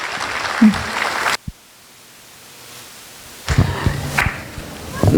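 Applause from an audience after a Tamil dance performance at a New Jersey Tamil cultural festival cuts off suddenly into near silence, then a second burst of clapping and rustling resumes.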